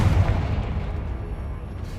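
A Confringo spell explodes in Hogwarts Legacy, a deep, close boom that fades into a low rumbling tail.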